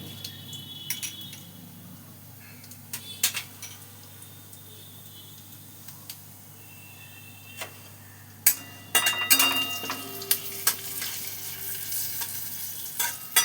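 Whole cumin seeds fry in oil with a quiet sizzle, then a spoon stirs and scrapes the pan in sharp clinks that grow busier toward the end, with no voices.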